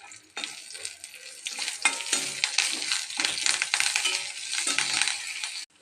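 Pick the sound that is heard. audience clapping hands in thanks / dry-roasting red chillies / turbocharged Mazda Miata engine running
dry-roasting red chillies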